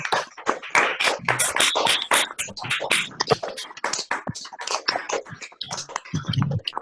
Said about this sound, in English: Thank you for that countless applause